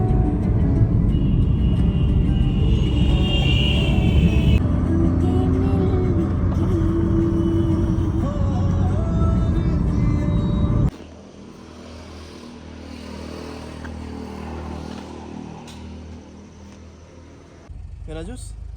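A Maruti car drives along a road, its engine and tyre rumble droning steadily from inside the cabin under people talking, the noise dropping to a softer roll partway through.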